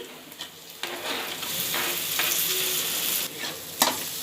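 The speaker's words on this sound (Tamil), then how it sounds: "நல்லா வதக்கிக்கிறணும்." Mutton curry sautéing in a pan with chili powder, curry masala and tomato, a steady close sizzle broken by a few sharp scrapes and knocks of a spoon stirring against the pan.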